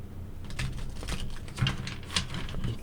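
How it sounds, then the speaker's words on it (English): Tarot cards being shuffled, a quick run of close, crisp clicking flicks and taps that come in uneven bursts, with no talking. "let's do 7 shuffles"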